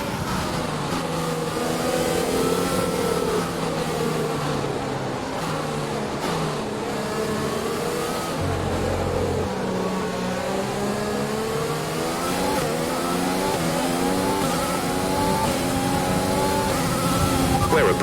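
An F1 race car engine from F1 2020, at the Chinese circuit, revving and shifting through gears with a loud, continuous high-pitched whine that rises and falls steadily, close and dominant throughout.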